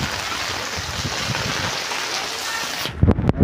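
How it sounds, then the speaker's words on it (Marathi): Heavy rain pouring down in Nanded, a steady broadband wash that holds for about three seconds before giving way to a few louder close knocks and rumbles. "आज लई पडाले पाणी नांदेडमध्ये"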